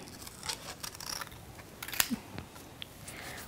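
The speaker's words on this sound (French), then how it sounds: "je découpe bien tout le long de l'épée" Scissors snipping through paper to cut out a pirate sword shape, scattered faint close-up clicks and rustles with one sharper snip.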